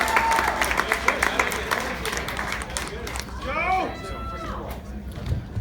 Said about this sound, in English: Big round of applause for Steve.